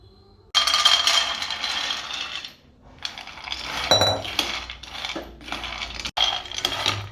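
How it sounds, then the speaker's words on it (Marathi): Almonds and walnuts being dry roasted in a pan, heard as steady rattling and clinking of the nuts against the metal, close and fairly loud, with brief pauses and a sharp clatter. "हे बदाम आणि अक्रोड वेगळे वेगळे मस्तपैकी खरपूस भाजून घेऊया"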